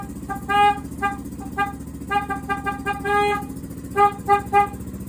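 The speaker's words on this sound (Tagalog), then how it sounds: "ayusin ko muna to kasi hindi ko magana yung busina eh" A repaired motorcycle horn honks in a series of short, loud toots and a few longer blasts, bursts in irregular rhythm close by over a low idling engine.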